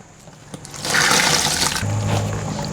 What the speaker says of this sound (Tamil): தண்ணி வந்து ஊற்றி ஊற்றி வடிவாக குழைச்செடுக்கணும்